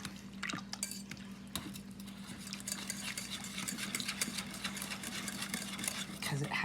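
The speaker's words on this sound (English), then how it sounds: "I'm gonna take this humongous whisk." A large whisk stirs a chicken, mushroom and spinach dish with green onion cream cheese in a pan, giving quiet, continuous scraping and swishing strokes with a few light knocks against the cookware.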